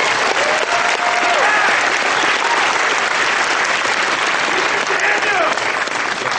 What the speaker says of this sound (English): Save your applause.